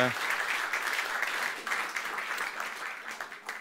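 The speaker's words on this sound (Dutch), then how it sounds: "Dus geef haar een warm applaus." Warm, steady applause from the audience at an Amsterdam municipal election debate, a dense even wash of clapping that carries on without a break.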